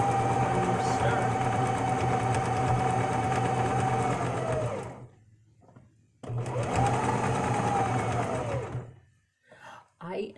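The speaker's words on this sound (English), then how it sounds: "So I'm going to sew up this one side." A sewing machine stitches a side seam in fabric, running loud and steady in two long bursts separated by a brief pause, with stops and starts near the end.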